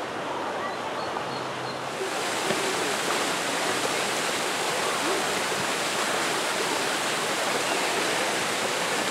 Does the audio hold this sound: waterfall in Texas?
yes